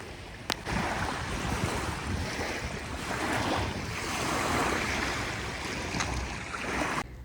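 Sea waves roll and wash continuously onto the shore, a broad steady roar with some wind noise, with no voices.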